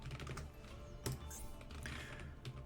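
Quiet typing on a computer keyboard, a steady patter of soft key clicks with a couple of firmer strikes, heard alone without speech.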